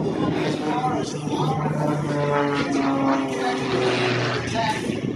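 An MX Aircraft MXS-RH aerobatic airplane performs at the Wings Over Batavia airshow, its engine and propeller droning steadily with shifting pitch throughout, loud and continuous, with a voice talking over it.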